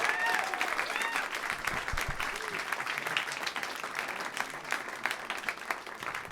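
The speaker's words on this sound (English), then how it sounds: "So how about a round of applause for our guest of honor, Mr. Walt Disney." Sustained audience applause at a comedy roast, steady dense clapping with scattered cheers and voices mixed in throughout.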